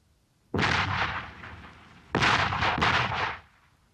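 Artillery fires on a patrol in two booming reports with rolling echoes, the second starting about a second and a half after the first, each fading over roughly a second, loud and fairly near.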